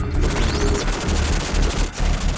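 Sustained loud machine gun fire from an armored vehicle's 7.62 caliber gun, a continuous rapid burst of shots rolling on for over two seconds with only a brief dip near the end.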